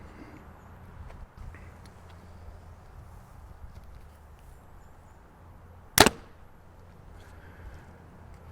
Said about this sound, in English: let's take a shot over the chronograph and see what it gets for sound and speed here.